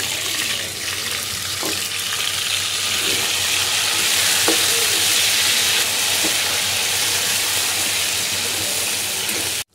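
Precooked meat for haleem fries and gets stirred in a pot, giving a loud, dense sizzle that holds steady throughout, with occasional soft scraping clunks from the stirring and an abrupt stop at the end.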